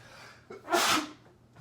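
A single sharp sneeze from a cook, set off by pepper seeds, bursts out close and loud after a short intake of breath, then fades into quiet.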